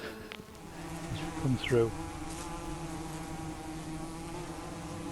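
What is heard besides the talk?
wasps buzzing around a disturbed nest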